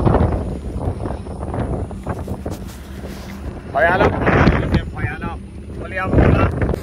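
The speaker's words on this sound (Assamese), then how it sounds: "বহুত বেছি বতাহ বাহিৰৰ ৱেডাৰটো বহুত বেছি বেলেগ" Strong wind outside on the road toward Itanagar, buffeting the microphone in loud gusts that rise and fall while a person talks throughout.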